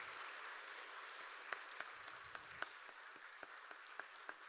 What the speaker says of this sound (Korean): 큰 박수로 한번 격려해 주시죠.